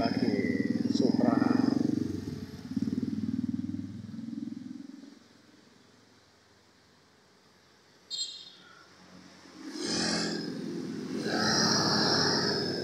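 Honda Vario and Supra motorcycles pass by at a school entrance, their engines rising loud, fading away, then another approaches and passes, with quiet traffic in between.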